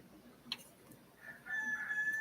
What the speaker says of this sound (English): hey Denise, heard that Rooster is crowing now this morning.